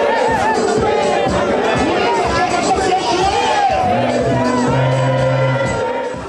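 A large crowd at a political rally in Kolwezi reacts to a Christian song, a loud continuous mass of voices with shouts and chatter, a sustained tone joining in near the end.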